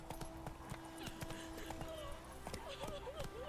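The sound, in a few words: horse Roach galloping in The Witcher 3 video game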